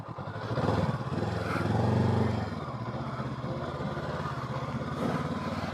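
A 2023 Honda CB500X motorcycle rides off-road over gravel near a beach, its engine droning steadily close by with small surges in revs.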